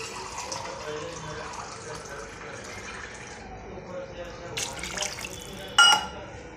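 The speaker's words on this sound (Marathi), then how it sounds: "आता थोडं गरम पाणी घालायचं" Hot water is poured into a pan of onions and tomatoes for Maggi noodles, a soft running and splashing liquid sound, with a brief louder splash near the end.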